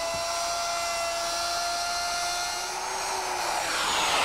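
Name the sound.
router with half-inch straight bit milling dado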